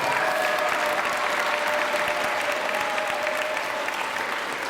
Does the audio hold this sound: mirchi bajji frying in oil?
no